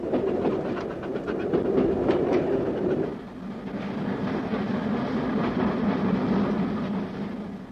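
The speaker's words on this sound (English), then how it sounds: "steam trains are back in action, if only on a short stretch of line" Steam train running on the Great Central Railway near Loughborough, a loud rumbling passage with rhythmic clatter of wheels on track that shifts in tone partway through, continuous and close, no voices.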